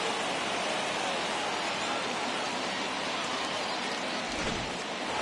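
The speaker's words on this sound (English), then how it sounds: "And Dan, when it comes to pitching in the rain, what changes?" Heavy rain in a baseball video game, a dense steady hiss of falling drops filling the whole stretch without letup or voices.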